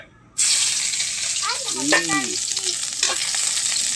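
Ginger sizzling loudly in a hot pan, a steady hiss of frying that starts suddenly, with brief stirring and scraping noises partway through.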